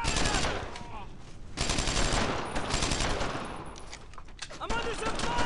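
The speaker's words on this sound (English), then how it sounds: "I'm under some fire!" Dense gunfire and explosions in the World War II shooter Brothers in Arms: Earned in Blood, continuous overlapping rifle and machine-gun shots close by, with shouted voices mixed in.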